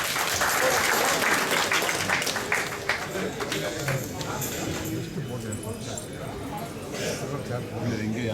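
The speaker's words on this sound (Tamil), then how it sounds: "கரகோஷம் வரட்டும்." A crowd claps in sustained applause at an honoring ceremony in India, loud at first then gradually thinning, with voices murmuring underneath.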